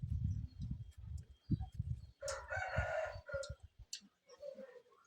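Chickens and a rooster near rice drying in the sun outside a rural house; the rooster crows once at moderate distance among clucks and a string of low, dull thumps.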